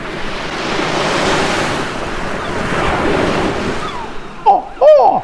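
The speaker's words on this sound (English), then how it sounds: "There's some seagulls there." Seagulls cry twice near the end, close and loud, after several seconds of steady ocean surf and wind noise rolling along the shore.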